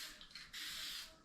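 An old aerosol spray paint can hisses weakly in short, uneven bursts that falter and then steady into a thin, faint spray.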